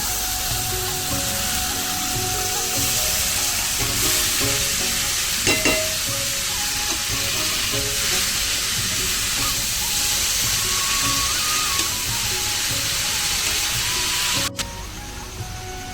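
Boiled shredded cabbage tossed into spiced oil for a cabbage curry with fish head, frying with a loud, steady sizzle and hiss under ongoing stirring, ending with a sharp click.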